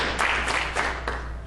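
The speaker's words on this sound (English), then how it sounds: "Give Lord a hand clap." A church congregation claps during worship, four distinct hand-clap bursts in an even rhythm over a low steady hum, fairly loud and close.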